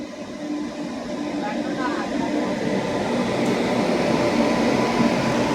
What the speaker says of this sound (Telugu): వచ్చేస్తుంది దేవగిరి ఎక్స్ప్రెస్.